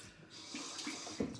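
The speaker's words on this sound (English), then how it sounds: "I'm gonna add a little water" A thin trickle of water runs into a shaving bowl, steady and faint with a few small splashes and drips near the end.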